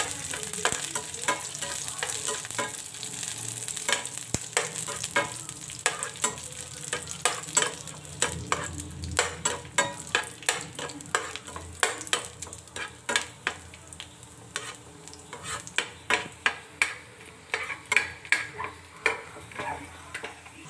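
Cashews roast in a pan for a quick village-style mandakki huggi, with a steady close sizzle and frequent sharp scraping and clicking as they are stirred, and no talk over it.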